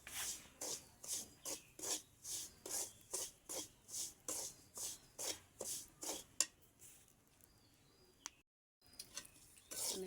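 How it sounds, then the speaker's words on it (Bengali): Semolina roasting in ghee in a pan over low heat while being stirred for kalojam sweets, a steady rhythm of about fifteen soft, rasping scrapes close by, then slowing to a few quiet scuffs. "আমি আস্তে আস্তে নেড়ে ছেড়ে জড়জড়া করে ভেজে নিচ্ছি।"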